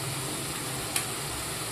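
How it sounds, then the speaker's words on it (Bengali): Chopped garlic hits a pan of frying spices for chicken bharta, giving a steady close hiss of sizzling oil with one small sharp tick partway through. "এবার আমি রসুন কুচিটা দিয়ে দিলাম"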